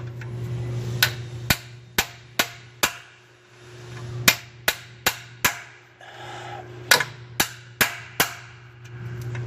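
A hammer strikes a wrench again and again to loosen a broken, rusted EGR bolt on a 6.7 Powerstroke diesel, giving sharp metallic clanks in two quick groups of several blows over a steady low engine hum.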